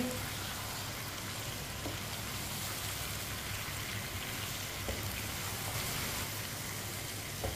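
Mutton and chopped pumpkin sizzle softly in a pot, a faint continuous frying hiss with occasional scrape of a spoon being stirred through, no speech.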